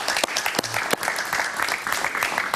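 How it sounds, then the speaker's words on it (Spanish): A studio audience on a Spanish-language evening talk show applauds a guest, a steady, fairly loud wash of clapping held throughout. "Un aplauso para él, por favor."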